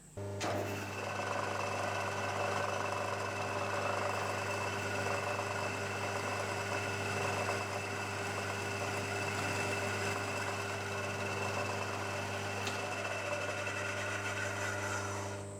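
A knee mill fitted with a thread milling attachment cuts a slot, a steady low motor hum with a constant machine whine, running evenly and fairly quietly throughout.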